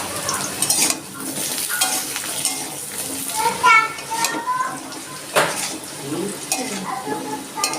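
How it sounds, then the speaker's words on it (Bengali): Potatoes fry in mustard oil in a hot wok (kadai), with a bright continuous sizzle broken by repeated spatula scrapes and metal clinks, and a voice is briefly heard underneath. "আমি দিয়ে দিচ্ছি সর্ষের তেল প্রথমে আমি আলুটা একটু ভেজে নিই"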